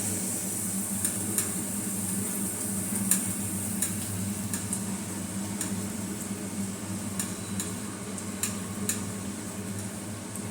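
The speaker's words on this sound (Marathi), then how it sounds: "आता आपण यात ही पुरी सोडूया आणि सोडल्यानंतर आपल्याला त्याच्यावर तेल उडवत राहायचे म्हणजे ती चांगली फुटते" A puri fries in hot oil while oil is splashed over it, a steady close bubbling sizzle with faint ladle clinks and taps against the pan, continuous and without talk.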